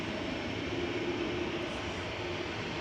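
A jet airliner at Manchester Airport gives a steady, loud roar with a broad rushing tone that holds evenly throughout, without a break.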